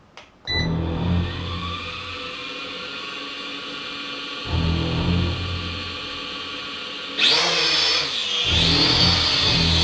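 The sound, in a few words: Helicute H818 quadcopter motors running, then landing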